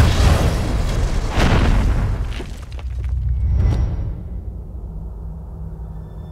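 A gunshot fired by a soldier in a German war drama rings out as one loud boom at the start, followed by a rolling, decaying echo and a second swell before fading to quiet low rumble.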